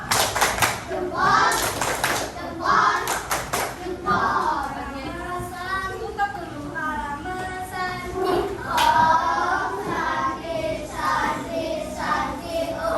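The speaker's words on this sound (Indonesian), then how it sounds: "berikan tepuk good job untuk temannya yang sudah berani ke depan" An elementary school class does the 'tepuk good job' clapping chant: several quick bursts of rhythmic group clapping, with children's voices chanting together throughout.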